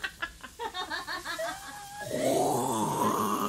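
A voice mimics loud snoring in a kitchen setting, with rhythmic throaty groans and breathy pulses for about two seconds, then a rising rasping throat-clearing noise like hawking.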